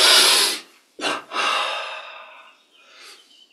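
A deep breath drawn in during a yoga and meditation exercise: a long, close airy inhale, a short pause, then a second breath tapering off quietly, with no talk over it.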